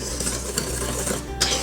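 A whisk clatters briskly against the side of a bowl as yeast, flour and other dry ingredients for kraut burger dough are mixed, with quick, close, metallic tapping and scraping.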